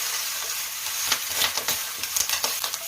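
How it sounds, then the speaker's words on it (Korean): Chili powder and softened onions stir-fried in a pot for Korean green onion chicken soup, with a steady close sizzle and scraping stirs throughout, no voices. "고춧가루 두 스푼 먼저 넣어주세요. 그리고 볶아주세요."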